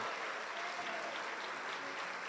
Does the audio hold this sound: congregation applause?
yes